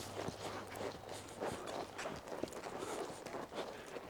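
Hoofbeats of a pole horse being loped through a pattern, a steady soft rhythm of footfalls heard from a distance over a noisy, muffled background.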